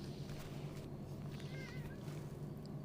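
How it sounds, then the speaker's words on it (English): A cat gives a short, faint meow midway through, set against a low steady hum from analogue synthesizers indoors. "Are you meowing?"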